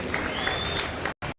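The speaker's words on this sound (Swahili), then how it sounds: "The Speaker of the Senate Amason Kingi, pigeni makofi." A large crowd at the ceremony granting Eldoret city status in Kenya breaks into a dense burst of clapping that cuts off abruptly, then briefly resumes.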